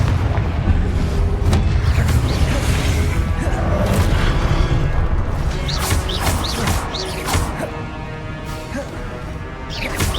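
Loud, rumbling fire-blast explosions from the Confringo spell in Hogwarts Legacy, a dense continuous barrage of booms with sharper cracks scattered through it.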